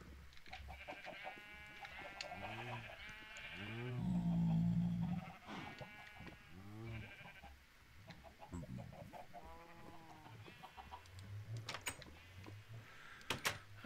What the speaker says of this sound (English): Sheep and lots of cows.